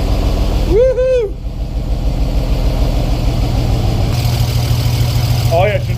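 A car engine running with no gearbox fitted, a steady low rumble throughout, with excited shouts from people over it.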